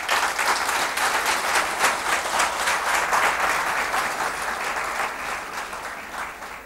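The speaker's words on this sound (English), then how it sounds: "can we give them a round of applause again?" A conference audience at an HR conclave claps in sustained, dense applause that holds steady and then slowly fades toward the end.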